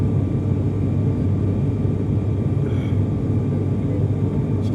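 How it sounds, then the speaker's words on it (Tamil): Steady, dense cabin roar of an airliner in flight on a trip from India to the Maldives, a constant broadband rumble without pause. "ஃப்ளைட்டு கொஞ்சம் நேராகிடுச்சு சுற்றுனது."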